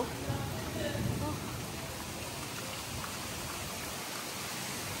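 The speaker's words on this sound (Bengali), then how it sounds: "হেভি বৃষ্টি হচ্ছে," Heavy rain pours down outside under a darkened sky, a dense, steady hiss of falling water that fills the whole stretch without letting up.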